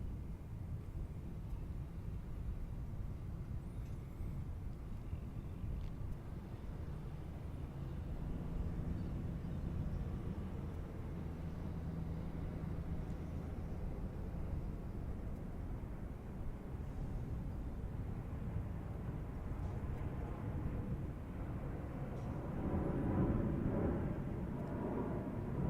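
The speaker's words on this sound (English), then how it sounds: "Etihad is just rolling down the runway here." An Etihad airliner rolls down a runway at Chicago O'Hare, a steady, distant broadband roar of jet engines that swells gradually toward the end, heard alone without talk.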